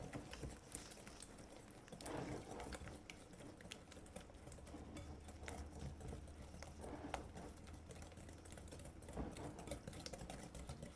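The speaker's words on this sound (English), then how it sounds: "into the bowl goes 2 eggs. I'm going to whisk until it's all emulsified." Two eggs whisked in a bowl for red velvet cheesecake brownies give a soft, continuous patter of quick wire taps against the bowl, fairly faint and steady throughout with slight surges.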